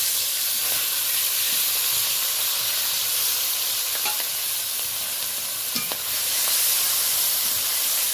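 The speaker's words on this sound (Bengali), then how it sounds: "এবার চেরা কাঁচা লঙ্কা, পেঁয়াজ, টমেটো এক এক করে সব কিছু দিয়ে দেবো।" Slit green chillies, onion and tomato drop one after another into hot spice tempering for a vegetable curry, setting off a steady sizzle with stirring scrapes and a few sharp clicks. No one speaks.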